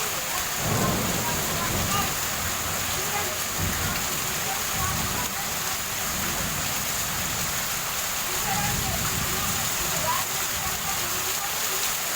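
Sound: heavy rain with thunder and lightning

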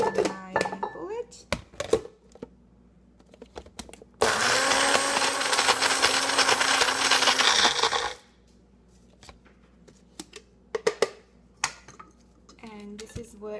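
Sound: Magic Bullet blender pulsing coconut

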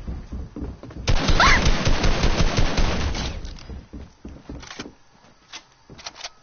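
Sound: gunfire in a shooter video game

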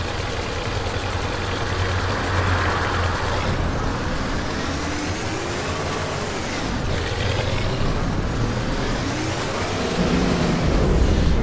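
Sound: Kuban G1A1 bus driving in video game Omsi 2

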